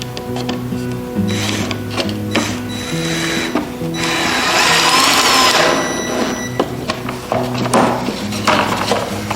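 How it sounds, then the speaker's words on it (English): Screws are driven into a wooden trapping box with a power driver, a ratcheting mechanical whir that comes in several short bursts, with one longer, louder run near the middle and faint background tones underneath. "So just simply screw them in."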